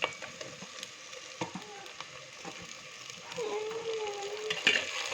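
Tomatoes frying in a pan with oil for a Nellore-style korameenu fish curry, a steady sizzle with scattered stirring scrapes, growing louder and busier toward the end.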